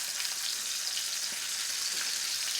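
Salmon fillet with crispy skin frying in a hot pan, a constant dense sizzle that stays loud and even throughout, with no voices.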